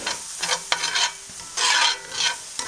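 Onions seasoned with garlic powder cook in a cast iron skillet, a soft sizzle broken by several scraping stirs in uneven bursts, heard close with nobody speaking.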